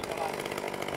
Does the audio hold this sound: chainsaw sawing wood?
yes